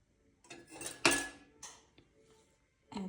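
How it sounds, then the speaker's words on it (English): Flour, baking powder, sugar and salt are stirred together for scones, giving a few close scraping and clinking strokes of a utensil against a bowl, separated by brief pauses. "So mix all the dry ingredients: flour, baking powder, sugar, salt."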